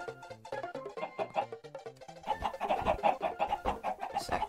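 A dense crowd of Minecraft chickens, thousands packed into one spot, clucking in rapid overlapping bursts that grow thicker and busier partway through, close and continuous with no talk.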